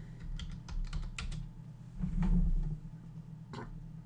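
A search phrase typed on a computer keyboard: a quick burst of close key taps, a pause, then a few more presses over a low steady hum.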